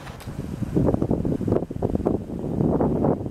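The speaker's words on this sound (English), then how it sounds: "Sorry for the windy day" Wind buffets the microphone in low, gusty rumbles that swell and dip throughout, fairly loud and close.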